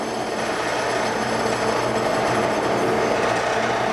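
A Rivett 1020F lathe running steadily in open belt at about 700 RPM, giving a continuous loud mechanical whir and broadband drone with a faint low hum underneath, unchanging throughout.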